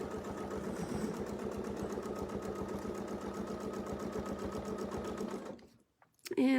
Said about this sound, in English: I'm going to sew in, continue the design a little bit.